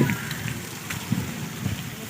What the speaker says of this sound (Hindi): बहुत बारिश हुई माशाल्लाह हमारे।